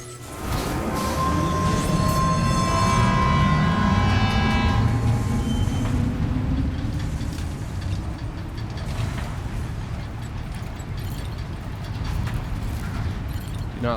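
A monorail ride in Death Stranding 2 gives a loud, continuous rolling rumble with a high tonal whine that fades after the opening seconds.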